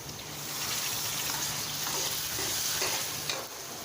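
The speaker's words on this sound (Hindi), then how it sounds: "अब मैं इसके अंदर 3 अदद टमाटर बारीक कटे हुए जिसका मैंने छिलका उतार लिया है वो इसके अंदर ऐड करूँगा।" Finely chopped peeled tomatoes added to onions frying in a pan for an arvi chicken curry, a steady close sizzle with soft stirring and wet spattering throughout and no talk.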